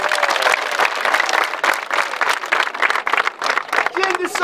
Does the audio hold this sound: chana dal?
no